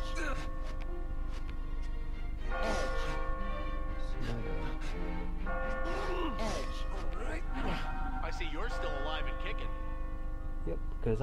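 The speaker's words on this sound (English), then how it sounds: "The bell's ringing, so not far." A bell ringing in the puzzle video game Catherine, sustained tonal chiming held steady throughout while someone talks over it at length.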